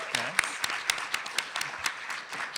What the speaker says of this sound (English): Give these beautiful ladies a hand of applause